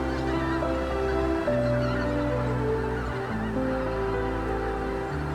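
Honking calls of large migratory geese resting on an empty harvested field in Pocheon, a steady flock chorus with overlapping honks throughout, no voices.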